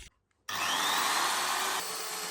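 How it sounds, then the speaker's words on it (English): A magnetic drill bores holes for rotovator link pins, a steady loud grinding whir starting abruptly after a brief quiet moment and running continuously at close range. "I'm going to Magdrill these into there and then weld them"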